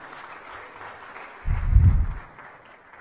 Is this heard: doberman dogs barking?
no